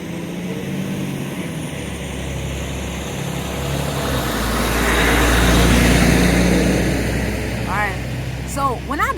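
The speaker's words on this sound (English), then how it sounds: "I don't know what this big ass truck going." A big, loud truck drives by outdoors, its low engine rumble swelling to a peak midway as it nears and then fading, with a voice talking over it and a brief high squeal near the end.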